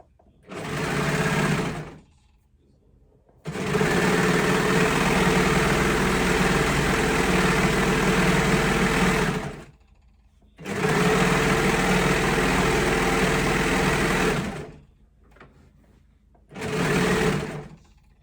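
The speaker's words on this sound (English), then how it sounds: "you could do this whole step using the stretch stitch on your machine" A sewing machine running a stretch stitch along sweater seams, four loud, close bursts of steady mechanical whirring separated by short pauses, with no talk.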